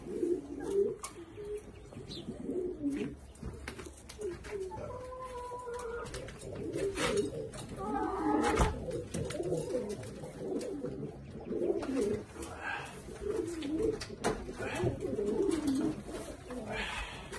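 Pigeons in a loft coo repeatedly in soft, low, throaty rolls, several birds overlapping near and far over a steady background hum, with faint chirps and no talking.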